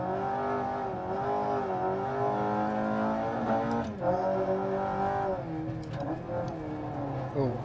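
Rally car engine in Dirt Rally 2.0 revving hard and steadily, its pitch climbing and dropping through gear changes, with a faint tire scrub at moments and no break in the drone.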